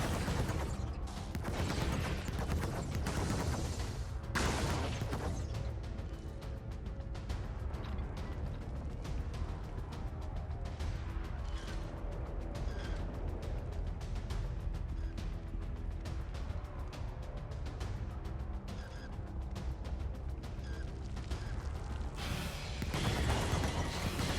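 Laser weapon fired continuously at Illuminates in the video game Helldivers, a steady mechanical whirring and clattering stream held loud for the whole stretch, with game effects layered over it.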